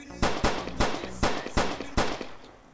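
Gunfire in the Skibidi Toilet video game: six sharp, evenly spaced shots in quick rhythm, loud and close, with no voices.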